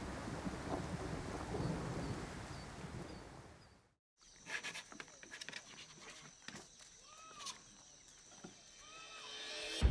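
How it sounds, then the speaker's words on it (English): Dense rain pours heavily for a few seconds, then drops to quieter patter with scattered drips and faint distant sounds, swelling again at the end. "it looks like we're in for a rainy night."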